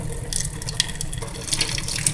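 Mountain Dew poured steadily for ramen, a continuous fizzy, splashing liquid stream close by with no talking.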